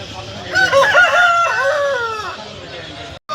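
A rooster at the Pileru chicken market lets out one loud, close crow with a rising then falling call, over a murmur of background market noise.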